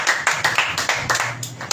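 Rhythmic clapping from a church congregation during an online worship meeting, a handful of distinct claps at a steady beat, fairly close, with a faint voice and sustained tone underneath.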